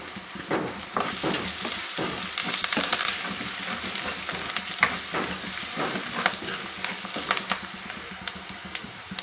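Turmeric and curry leaves frying with ginger garlic paste in hot oil for an egg omelette curry, a steady close sizzle with scraping stirring strokes throughout.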